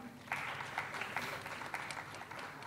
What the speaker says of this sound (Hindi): इनके लिए ढेर सारी तालियाँ।